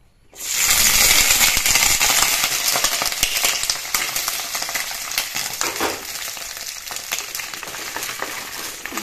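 Okra and potatoes hit hot oil in a wok with a sudden loud sizzle that settles into a continuous crackling fry. Spatula stirs and scrapes come through near and clear, and no one speaks.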